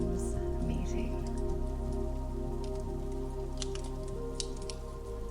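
Steady rain falls outside a cabin in the woods, a dense continuous patter of drops with scattered closer drips and splats over a low, even wash of sound; no voices.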